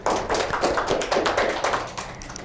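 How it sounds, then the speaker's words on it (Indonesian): A small group of students in a chemistry classroom clapping for a classmate, a brief patter of scattered hand claps that starts sharply and fades out over a couple of seconds. "Tepuk tangan dong buat teman kalian."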